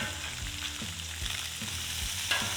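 Homemade maple, garlic and brown sugar bacon frying in a pan, a steady close crackling sizzle that runs throughout with a low hum beneath and a few soft knocks.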